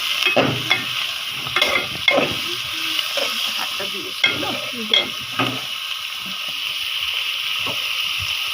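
Local onions sizzle in hot oil in a pan, with a steady frying hiss and several sharp stirring clatters in the first half before the sizzle continues alone and evenly.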